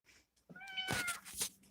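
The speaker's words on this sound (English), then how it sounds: "That's my Bossy cat right there." A domestic cat gives one clear, close meow that rises and then falls away, alone and fairly quiet after a short soft sound.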